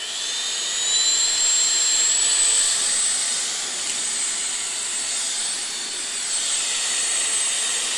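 An electric compressed-air duster runs at speed setting 3, blowing onto stones with a steady, loud, high-pitched jet-like whoosh and a faint whine rising in pitch, continuous for the whole stretch with no voices.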